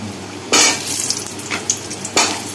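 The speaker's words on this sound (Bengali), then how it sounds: "এবার মাছের তেলেই আলুগুলোকে ভেজে নেব।" Thick-cut potatoes fry in hot oil left over from frying fish, with a loud, continuous close sizzle broken by a few sharp stirring scrapes and no talking.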